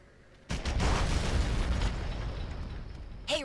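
A sticky grenade detonates in the Red Faction 2 video game, one sharp loud blast after a quiet moment, followed by a long rumbling, crackling decay and a brief whooshing effect near the end.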